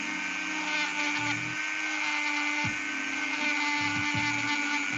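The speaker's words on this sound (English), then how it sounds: "This Perota is a pretty tough wood. So sanding through it takes a little bit of patience." A power sander grinds steadily through tough Perota wood, giving a continuous high whine with a few deeper dips in pitch as the pressure on the wood changes.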